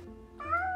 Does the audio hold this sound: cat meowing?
yes